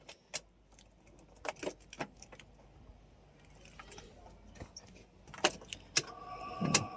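Car keys for a Toyota Land Cruiser jangle in several short, bright bursts close by, with quieter handling rustle between them and a louder flurry of clinks near the end.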